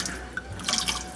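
Wine poured into a cooking pan while preparing rack of lamb: a brief liquid splash and trickle lasting about a second, close and fairly clear, with no talking.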